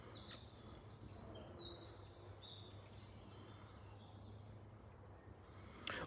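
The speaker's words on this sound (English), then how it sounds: "All I hear is the nature of the birds." Birds sing in the woods along an old coal miner's trail, with repeated high chirps and short trilled phrases over a faint steady outdoor hum. The calls are distant and soft, and no one speaks.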